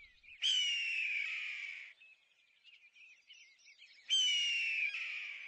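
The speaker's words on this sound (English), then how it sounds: "Like this scream of the red-tailed hawk, which means, "This is my territory. Keep out."" A red-tailed hawk gives two long, harsh, descending screams a few seconds apart, with faint raspy chatter in the gap and nothing else around.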